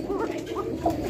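A female Kokka pigeon coos in short soft low warbles at close range, a brief burst of rolling calls.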